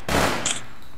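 A single loud gunshot with a sharp crack and a brief ringing tail from a shooter game set in an urban crime setting, with no voices.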